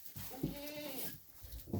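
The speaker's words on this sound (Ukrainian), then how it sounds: "Тихо, не мекай." Goats in a farm shed bleat twice, close by, short nasal calls with a quiet gap of shuffling between them.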